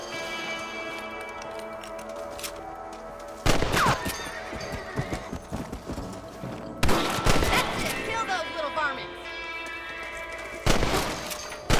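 In the Red Dead Redemption video game, three sharp bursts of rifle gunfire crack out over a quieter bed of game ambience and music, each followed by a brief ringing tail.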